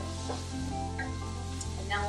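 Shrimp being stirred into seafood mac and cheese in a pan, with a soft, steady sizzle and wet stirring over a constant low hum for about two seconds.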